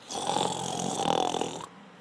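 A voice imitates loud, drawn-out snoring: one long rasping snore with a rattling texture, close and steady, ending abruptly.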